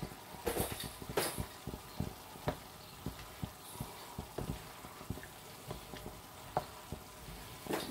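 A quick pan-fried dish sizzling in a pan: a quiet, steady frying hiss broken by frequent sharp pops, crackles and occasional utensil clicks, no voices.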